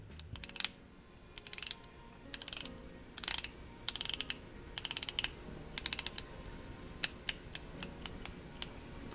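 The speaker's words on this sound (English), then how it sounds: "Let's listen to the bezel action." A stainless steel Tutima M2 Seven Seas dive watch bezel is turned in short bursts, each a quick run of crisp, close ratcheting clicks, with brief pauses between bursts and single clicks toward the end.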